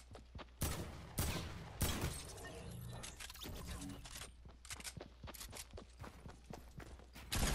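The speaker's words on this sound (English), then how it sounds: "Well, that's one pump shot right now." Pump shotgun blasts in the Fortnite video game, several loud sharp shots at irregular intervals among shattering structure impacts and a busy game soundscape.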